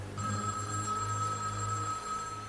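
A telephone bell rings steadily and unbroken for over two seconds, a bright electronic-sounding trill at moderate level with no voices over it.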